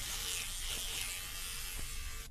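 Edger 3-in-1 electric beard trimmer cutting through facial hair, a steady close-up motor buzz that holds at even loudness throughout with no talking.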